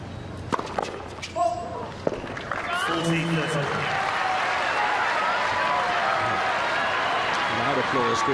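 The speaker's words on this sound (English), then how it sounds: "Loud applause greeting the double" Tennis crowd at an indoor Masters final breaking into loud applause after a double fault, with a few sharp ball and court knocks and a voice at first before the clapping takes over and holds steady.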